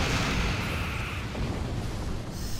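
A torpedo explosion in the space combat game Star Trek Online gives a dense, loud, sustained roaring rumble with continuous crackling bursts, heard alone without talk.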